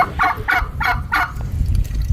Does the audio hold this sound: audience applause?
no